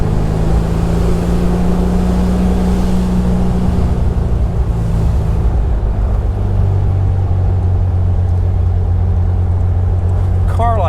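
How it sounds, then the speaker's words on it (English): Steady, throaty exhaust drone from a 1971 VW Beetle Convertible driving, loud and close, with a voice speaking over the engine partway through. "Nice throaty sound to the exhaust system."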